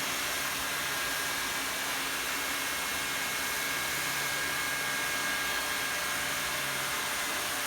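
A hot-air heat welding tool fitted with a universal turbo nozzle works a seam in vinyl sheet flooring, giving a steady, loud, unbroken blowing roar close by that holds level throughout with no voices.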